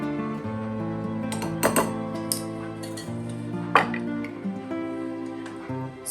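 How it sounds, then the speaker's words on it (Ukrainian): A metal whisk stirs dry active yeast and sugar together in a bowl for fluffy paska dough, giving light, irregular metallic clinks and taps against the bowl over a steady musical background. "За допомогою вінчика все об'єдную"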